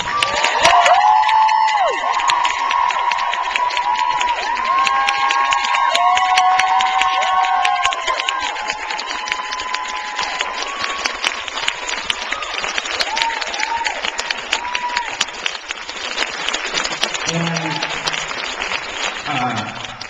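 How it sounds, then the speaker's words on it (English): An audience at an organization's acceptance event breaks into sustained applause mixed with cheers and whoops, loud and steady throughout before thinning toward the end. "So please give Andrew a round of applause."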